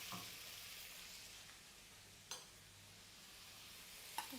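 Garlic and ginger sautéing in a pan for noodle stir fry, a faint continuous sizzle with two brief stirring scrapes, quiet and without talk.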